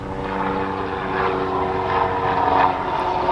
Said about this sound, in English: What are the odds that I have helicopter noise?